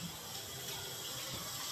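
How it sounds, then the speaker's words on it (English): Cold water runs from a tap in a steady, hissing stream, close and constant for the whole moment with no voices. "I'm just getting this cold water."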